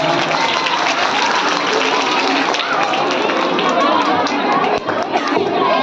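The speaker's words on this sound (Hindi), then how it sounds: "जोरदार तालियां बजाइए" A crowd at a school annual function applauds loudly after a performance, giving a dense, continuous wash of clapping with crowd noise and faint voices mixed in throughout.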